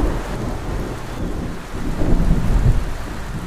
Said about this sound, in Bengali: একদিন বিকেলে ঝড় বৃষ্টি হচ্ছিল।